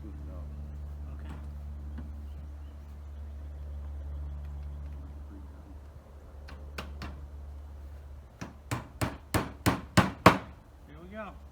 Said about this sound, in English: we're just using roofing nails to tack this down with